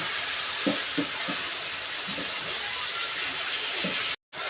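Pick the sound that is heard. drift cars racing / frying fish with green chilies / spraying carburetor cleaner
frying fish with green chilies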